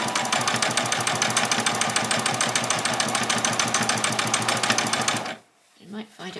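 A sewing machine runs a long continuous stitch along a fabric edge for a ruffle, a fast, even mechanical rattle heard close and loud for about five seconds before it stops abruptly, followed by a few faint knocks and handling sounds.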